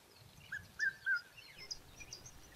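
A few faint chirping bird calls, brief and scattered, over a quiet outdoor background.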